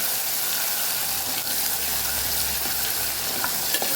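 Chopped tomato sautés in hot oil with asafoetida for a spicy Kathiyavadi guvar and potato curry, giving a steady, close sizzle and crackle throughout with no voices.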